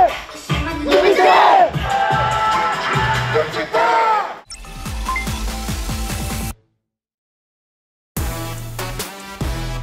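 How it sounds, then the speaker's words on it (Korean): Fans at a K-pop concert scream and cheer loudly over music, an intense crowd roar that cuts out abruptly into silence before the sound returns. "함성 소리가 너무 생각보다 커가지고"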